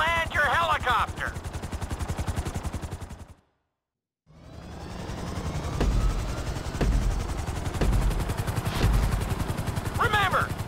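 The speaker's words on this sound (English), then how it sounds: "At the end of the course, you'll be required to safely land your helicopter" Helicopter in GTA 5 on PC during a flight school course, its rotor chopping in a steady loud drone that cuts out briefly midway and returns, with a few sharp thuds and electronic chirps over it.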